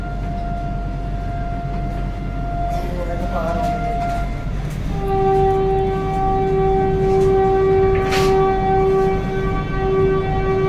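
The Howrah–Ranchi Vande Bharat Express pulls out of platform 22 at Howrah station: a loud sustained tonal horn or whine rises over a steady rail rumble, with a brief higher squeal near the end.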